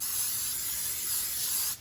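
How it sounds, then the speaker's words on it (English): A continuous close hiss of olive oil cooking spray coating a pan lasts nearly two seconds, then cuts off abruptly. "I'm just using some olive oil spray to coat the pan"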